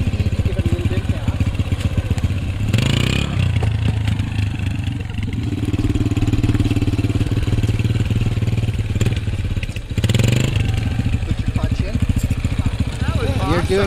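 A motorcycle engine idles and pulls away slowly in first gear as the clutch is eased out, a steady low chugging with brief revs, while a person talks over it throughout.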